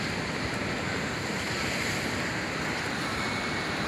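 Ocean waves surge and crash against a harbour break wall that shelters docked boats, a continuous loud roar of surf mixed with wind noise, with no voices.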